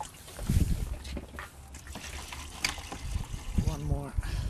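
Water trickles and gurgles through a small school model of a tromp and airlift pump as air bubbles pass through, with bubbly pouring sounds, close and moderately loud.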